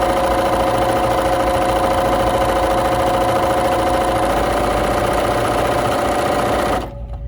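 A BERNINA 3 Series sewing machine stitching a decorative tulip pattern runs with a loud, steady motorized whir and needle rattle for several seconds, then stops abruptly near the end.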